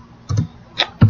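Keys clatter on a computer keyboard in short bursts, a few quick taps spaced apart, close and clear with no talking.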